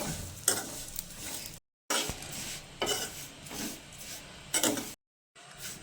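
Semiya vermicelli frying in a pan, with repeated bursts of sizzle and stirring scrapes broken by short silent gaps, close and moderately quiet, no voices.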